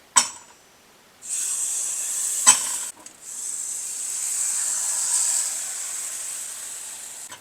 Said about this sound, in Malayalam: പാത്രം നന്നായിട്ട് ചൂടായിട്ടുണ്ട് ഓരോ പ്രാവശ്യം ഒഴിക്കുമ്പോഴും മാവ് കലക്കി വേണം ഒഴിക്കാൻ